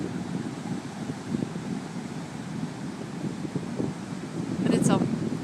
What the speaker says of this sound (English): Hopefully the wind's not too loud